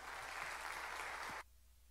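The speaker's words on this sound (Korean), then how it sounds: "박수로 환영하겠습니다" Applause from a church youth group welcoming a preacher, a soft, dense wash of clapping that cuts off abruptly partway through, leaving quiet room tone.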